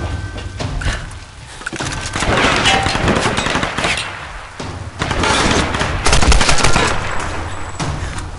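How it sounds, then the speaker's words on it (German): Dense gunfire rings out in Tomb Raider (2013), with bursts of rapid shots over loud game action and no pauses. "Da hilft nur das Schießen wieder üben hier."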